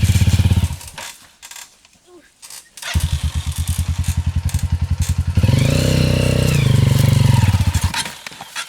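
A Honda XR 200 dirt bike on a trail revs hard in loud, sustained bursts after a brief lull, its engine climbing to a steady high-pitched roar close by, with voices talking over it.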